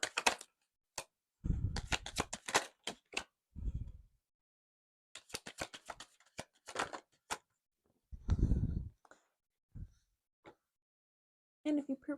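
Cards riffle and bridge in several quick bursts, each a rapid flutter of snapping edges, close and fairly loud, separated by pauses and light taps with no talking.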